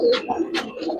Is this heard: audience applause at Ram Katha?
no